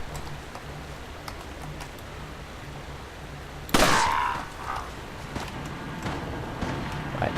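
A single sudden, loud gunshot in the video game Resident Evil 4 rings out and decays over a couple of seconds, with quiet game ambience before and after.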